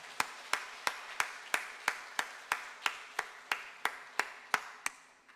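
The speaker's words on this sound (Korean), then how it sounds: "우리 따뜻한 박수로 환영하겠습니다." Church congregation claps in welcome, about sixteen sharp, evenly spaced unison claps in a steady rhythm, fairly quiet and reverberant with the room.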